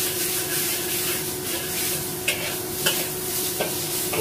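Beef sizzling and being stirred in a hot pan, a steady loud frying hiss with a few brief scraping accents from the utensil, no voices.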